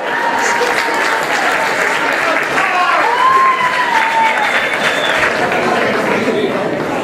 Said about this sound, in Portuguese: uma grande salva de palmas para ele.